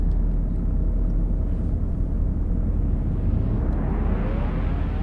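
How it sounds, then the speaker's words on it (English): A racing car's engine in Assetto Corsa VR drones loud and steady throughout, a deep continuous rumble whose pitch climbs toward the end as it revs higher. "Maybe the car's a bit too noisy."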